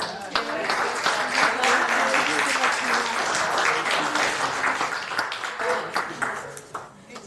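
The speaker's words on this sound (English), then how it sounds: "Let's give him a round of applause" At a Baldwin Park Finance Authority meeting, the room claps for a person being honored, with a few voices mixed in. The moderately loud, slightly uneven applause swells quickly, holds, then thins out over the last couple of seconds.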